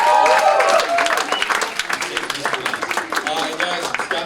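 An audience at a live show at The Nest applauds a performer named Scott as he begins, a dense burst of clapping and cheering that is loud at first and then thins out and fades.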